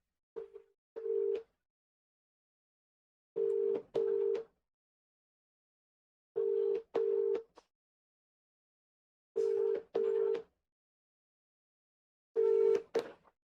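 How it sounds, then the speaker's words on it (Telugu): A phone call rings back through the earpiece as five evenly spaced double-pulse ring tones, each pair separated by about two seconds of silence, faint and tinny. "రింగ్ అవుతుంది."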